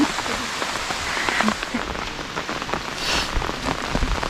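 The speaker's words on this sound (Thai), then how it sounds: "ฝนตกฝนตกแป๊บเดียว" Steady rain patters down over rice fields, a dense hiss of drops that holds constant throughout, with no voices.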